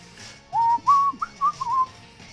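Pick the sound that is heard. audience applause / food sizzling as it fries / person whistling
person whistling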